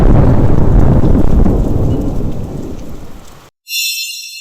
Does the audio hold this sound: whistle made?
no